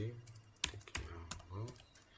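A few quick keystrokes on a computer keyboard while a command is entered, close and soft, with someone talking over the clicks.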